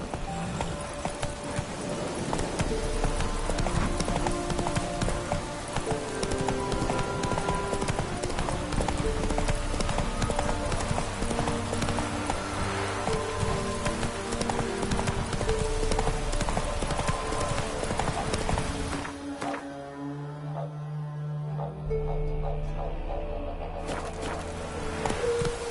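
Horse hooves clip-clop at a steady gallop in The Witcher 3 video game, loud and continuous over game music, with a brief neigh and a change in the background sound near the end.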